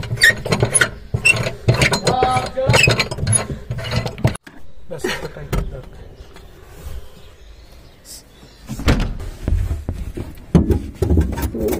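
Ratcheting mechanical clicks and metallic turning of a car wheel being tightened during a flat tyre change: busy bursts of clicking at the start and end, with a quieter stretch in the middle.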